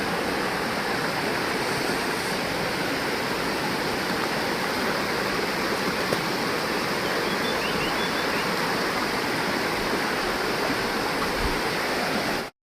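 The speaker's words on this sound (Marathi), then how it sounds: "मी तुम्हाला आजचा वॉटरफॉल दाखवण्याचा छोटासा प्रयत्न करत आहे" A waterfall at Katta village in Devgad, during the rainy season, gives a constant, dense rushing roar that holds steady and alone throughout.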